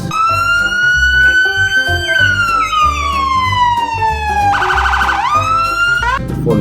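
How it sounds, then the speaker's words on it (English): A toy police car plays a loud electronic siren, a continuous wailing tone that sweeps up and down and shifts into a rapid yelp pattern partway through, heard alone and close. "Okay, this is a police car, my friend."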